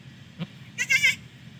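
A newborn goat kid gives two short bleats, a brief faint one followed by a louder, wavering cry, heard close and alone against quiet farm background noise.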